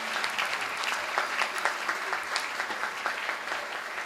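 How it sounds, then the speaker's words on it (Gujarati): Audience applause at a Jain diksha devotional event, a steady wash of many clapping hands throughout, moderately distant and continuous. "એકવાર આદિ માટે જોરદાર તાળીઓ સાથે."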